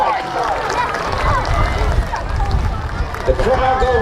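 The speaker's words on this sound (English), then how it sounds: "The crowd go wild." Spectators at a jousting tournament at Pendennis Castle cheer and shout wildly after a strike, a loud, dense crowd roar with voices rising through it.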